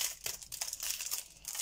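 Crinkly plastic surprise packets in mesh bags are handled and opened close by, giving quick, rustling crinkles and crackles in short bursts with no talk.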